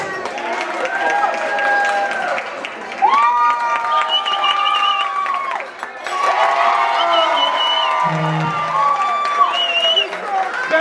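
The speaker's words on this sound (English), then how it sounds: "Round of applause." Guests at a 50th birthday luau cheer and shout together, children's high voices among them, in loud overlapping bursts with a brief dip midway and a little scattered clapping.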